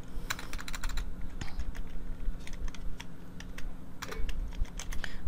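Fast bursts of clicky keystrokes on a computer keyboard as a website address is typed into a browser, close and clear, with short pauses between runs of keys and no talk.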